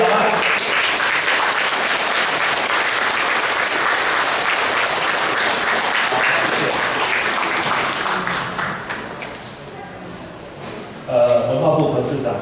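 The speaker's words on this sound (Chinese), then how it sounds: "给李延春大师以及他的夫人舒康女士热烈掌声好吗" A large audience applauds at the opening ceremony of a retrospective art exhibition, with dense, loud clapping that fades toward the end before a voice comes over a speaker system.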